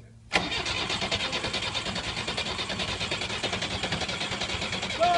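A van's engine cranks repeatedly without catching, a rapid rhythmic churning that starts abruptly and runs on steadily, close and moderately loud.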